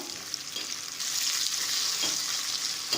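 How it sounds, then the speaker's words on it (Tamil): Onions sautéing with a pinch of salt in a pan for drumstick vathakuzhambu give a steady close sizzle that grows louder about a second in, with faint stirring scrapes and no talk. "வெங்காயம் வதங்கட்டும்"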